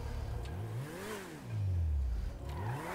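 A tuned Koenigsegg Agera in GTA V revs its engine, the pitch climbing and falling in repeated sweeps, mid-loud and close with a whirring tone and no talk.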